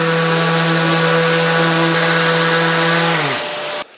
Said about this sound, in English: I'm just going to give this a sand, because then there's support for the sander across the whole of that field.